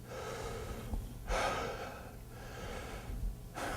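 A voice imitates Kussmaul respirations, producing deep, rapid gasping breaths in a steady rhythm, each inhale a loud rush of air repeating every couple of seconds, close and alone without talk.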